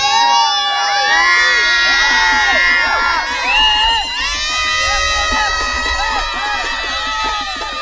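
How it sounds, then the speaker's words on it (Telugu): Loud crowd shouting and cheering at a village Muharram festival, a dense mass of overlapping voices with high excited calls rising and falling continuously throughout. "చూసారా కేకలు, అరుపులు"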